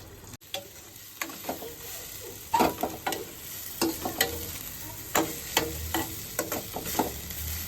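Onion fries in oil in a large kadhai, with a quiet sizzle under repeated sharp stirring and scraping strokes of a spatula, irregular and close, with no talk.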